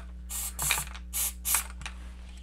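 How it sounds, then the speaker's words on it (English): Several short aerosol bursts of an alternative flux cleaner sprayed onto a circuit board button in a pan, four close hissing blasts with brief pauses between, followed by a faint short puff, with no talk. "we'll spray the little button I have here and leave it in the pan"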